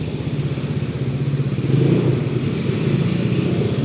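Motorcycle engines idle and rev in a busy weekend parking lot, a near, steady pulsing putter that swells louder midway, with no talk over it.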